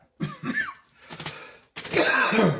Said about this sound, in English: Please forgive my cough and the creaky chair